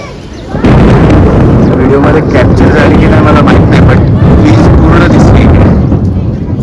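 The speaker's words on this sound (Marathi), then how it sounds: "किती वीज कडाडती आहे" A loud, sustained rumble of thunder and lightning in an April thunderstorm at a village near Rajgurunagar, Pune, with heavy wind buffeting the microphone, rolling on for several seconds.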